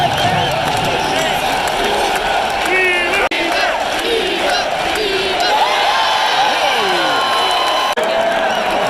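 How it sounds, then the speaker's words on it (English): A packed Progressive Field crowd roars loudly and continuously at a Guardians vs Rays wildcard baseball game, with whoops and shouts rising above the din and a commentator talking over it. "The crowd is absolutely going insane."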